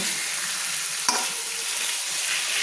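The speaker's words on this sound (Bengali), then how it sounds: "এবার আমি চিকেন ফ্রাই করে নেওয়ার জন্য আমি চিকেনগুলো কিন্তু কষিয়ে নেব" Chicken pieces sautéing in hot oil and spices for a dhaba-style chicken fry, a close, steady hiss of frying with one sharp knock of a spoon against the pan partway through.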